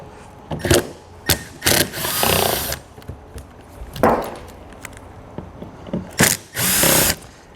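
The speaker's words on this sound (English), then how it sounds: "we're just going to simply remove these 4 screws here from the inside of the wheel well" Power drill backing out screws from inside a 2019 Buick Envision's wheel well: several short bursts of whirring motor noise, some brief and some a second long, separated by pauses and clatter, close and loud.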